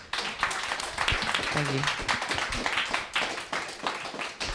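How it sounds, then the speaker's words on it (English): An audience claps in a sustained round of applause after a panel on exporting music to global markets, with a voice speaking briefly over the clapping. "Thank everybody on this panel. A loud round of applause."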